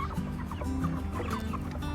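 A flock of Cornish Cross broiler meat chickens clucks and murmurs continuously at close range, many overlapping calls forming a steady, busy barnyard chatter with no talking.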